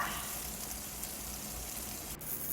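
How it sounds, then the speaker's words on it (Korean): Tofu pan-frying until golden over medium-low heat, a steady soft sizzle and crackle that continues evenly throughout, close and fairly quiet, with no talking. "그래서 이렇게 넣어가지고 노릇노릇하게 구워줍니다"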